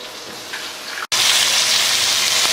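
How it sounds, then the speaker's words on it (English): New York strip steak sears loudly in a hot pan, a dense steady sizzle broken by one sharp momentary dropout before the hiss returns fuller and brighter, close and continuous with no talking. "I flipped the steak and I'm just sealing the other side of it right now"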